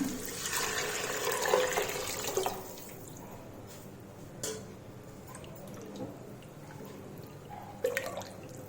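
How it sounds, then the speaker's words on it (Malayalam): A cup of water pours and splashes into a cooking pot for prawn rice for a couple of seconds, then a few faint drips and small clinks follow in a quiet room. "അത് ഇതിലേക്ക് ഒഴിച്ചു കൊടുക്കുകയാണ്"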